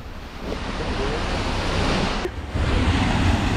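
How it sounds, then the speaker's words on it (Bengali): Sea waves roar at Digha beach along Marine Drive: a loud, dense, unbroken wash of surf with wind buffeting the microphone, swelling slightly stronger toward the end. "সমুদ্র কেমন গর্জন করছে দেখো, আওয়াজটা দেখো শুধু"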